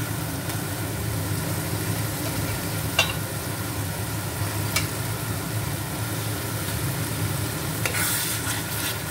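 Chillies frying in hot oil in a pan give a steady, dense sizzle, with a few faint clinks of stirring now and then, close and continuous with no talking.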